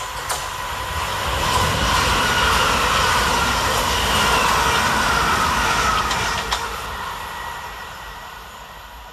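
Class 387 electric trains 387-217 and 387-220 pass through Salfords station. A loud rushing roar builds, holds steady and fades over several seconds, with a few sharp wheel clicks on the rails.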